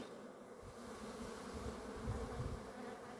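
Honeybees buzz steadily around beehive frames during an autumn hive inspection, a dense continuous insect drone close by with no voices.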